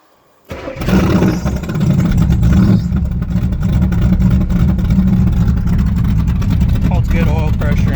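A Pontiac Firebird engine cranks and catches, then settles into a loud, rough, steady idle with a few blips of revving, recorded close with faint background sounds.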